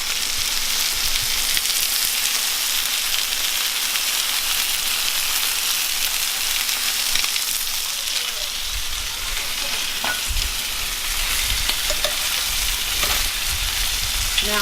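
Food sizzles and crackles steadily in a hot pan, a loud continuous hiss with scattered pops and a few low knocks, with no talking.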